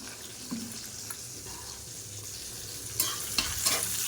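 Spice mix frying in oil in a pan, a soft continuous sizzle with occasional stirring scrapes and a few brighter bursts toward the end.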